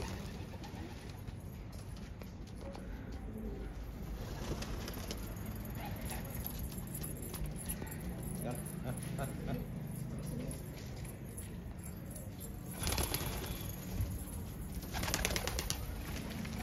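Pigeons coo softly amid a busy outdoor background of rustling and low noise, with a brief flurry of flapping wings toward the end.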